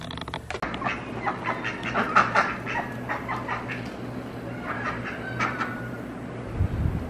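Ducks busting loose near a quail pen, quacking and chattering in scattered calls at moderate distance, over steady farmyard background noise.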